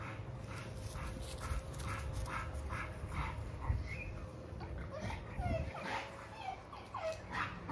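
XL Pitbull dogs and puppies whimpering and panting close by, soft whines and quick breaths, with some low voices in the background.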